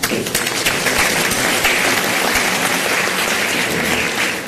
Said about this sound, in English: We have already given a thunderous applause, but since I was not there, we'll do it once again.